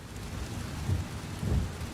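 Rain and distant rumbles of thunder heard from the cockpit of a Boeing 757-300 in a flight simulator, a soft steady patter with two low swells of rumble, no voices.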